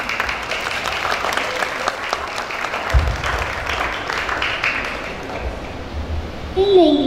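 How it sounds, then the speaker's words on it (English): Applause welcomes fourth-grade students at a school learning celebration. The crowd claps steadily with scattered voices in the room, and a brief tonal sound cuts in near the end. "Please welcome them with a round of applause."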